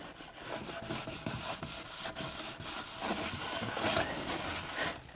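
A cloth soaked in 91% alcohol rubs back and forth over a rim for a custom Power Wheels build, making close, steady scrubbing and swishing strokes with no talking.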